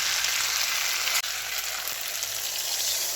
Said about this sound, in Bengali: ভালো করে কষিয়ে নেবো আমি